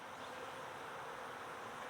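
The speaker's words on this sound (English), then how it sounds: "our bees are mostly on these." Honey bees on beehive frames from a swarm trap after a flood, giving a soft, continuous buzzing hum that stays even and faint, with no other sounds over it.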